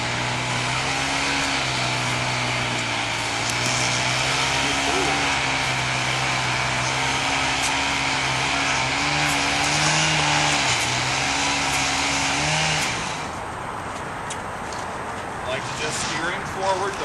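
A loud, steady motor drone with shifting pitch, like a chainsaw running nearby, which eases off toward the end.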